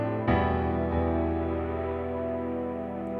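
Sustained piano chords doubled by a soft synth pad, struck once near the start and left ringing as a full, layered sound that slowly fades, with no voices over it.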